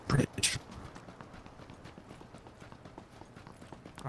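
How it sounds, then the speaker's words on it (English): In PlayerUnknown's Battlegrounds, a character's running footsteps clop like hooves, a couple of loud thuds at the start followed by quieter rhythmic steps under low background game sound. "It sounds like you're running like a horse."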